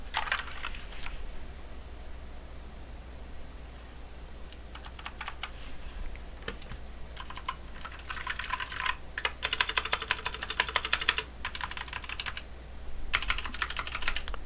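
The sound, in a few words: typing on a Pwnage mechanical keyboard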